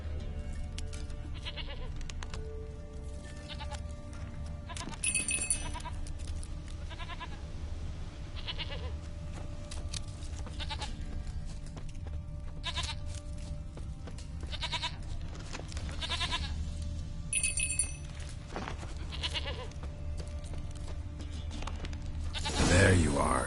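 Goat bleats from The Witcher 3 video game, several short calls spread through the scene over steady game ambience and a voice speaking.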